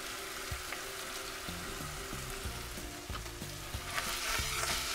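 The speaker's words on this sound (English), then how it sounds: "And stir fry for about 2 minutes." Pickled cabbage is stir-fried in a hot pan while cooking Taiwanese beef noodles, giving a steady close sizzle broken by frequent scrapes and clatters as it is tossed, with no talking.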